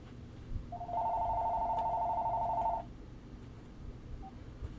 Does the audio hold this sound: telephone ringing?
yes